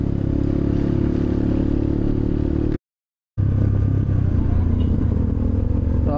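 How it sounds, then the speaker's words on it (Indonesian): Motorcycle with an open aftermarket exhaust climbing an uphill road near Pamijahan, a loud, steady low engine drone close by that cuts out briefly, then returns rougher and clattering. "kalau knalpot gua kalau dibuka pas tanjakan suaranya berisik banget guys"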